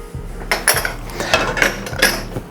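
Coleslaw ingredients with apple cider vinegar, sugar, celery seed and salt being stirred in a bowl, giving a steady series of clinking utensil-against-dish knocks and scrapes, close and fairly loud, with no talking.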